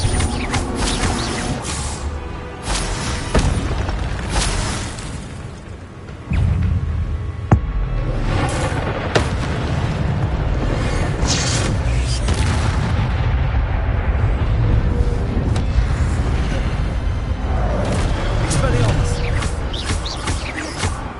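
Spell-casting blasts and bursts from a Harry Potter video game, a dense run of loud booming impacts and crackling bursts with brief quieter gaps, thick and continuous across the stretch.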